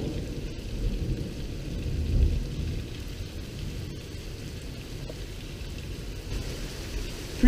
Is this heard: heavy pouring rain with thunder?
yes